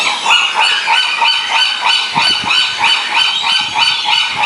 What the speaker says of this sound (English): Look at the birds coming here.